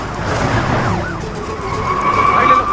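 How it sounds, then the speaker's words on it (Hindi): A police car approaching in a Hindi-dubbed action film, a wailing siren rising and falling over loud engine and road noise, with a pitched tone steadying toward the end. "पुलिस की गाड़ी आ रही है"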